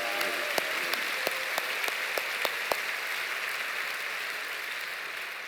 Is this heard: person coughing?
no